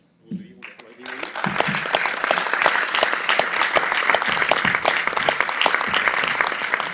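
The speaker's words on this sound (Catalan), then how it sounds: "Voldria un aplaudiment." Sustained, dense applause from a crowd gathered at a Catalan motorcycle travellers' meetup, swelling after a brief quiet opening and continuing strongly with scattered voices mixed in.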